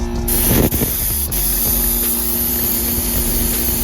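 A continuous hissing spray from an aerosol paint can, painting a Honda K-series engine valve cover, steady and close, with a brief rattle and pause near the start.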